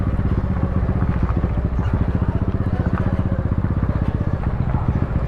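A motorcycle ridden along a Karachi street near an underpass construction site, its engine a steady, loud, rapid putter filling the whole stretch close up.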